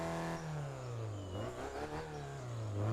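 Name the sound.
car engine revving in Test Drive Unlimited 2 video game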